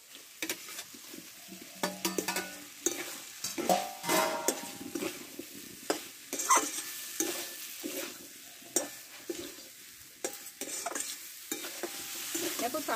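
Potatoes and pointed gourd are stir-fried with chana dal in a pan, giving repeated close scraping stirs and clinks over a light, intermittent sizzle.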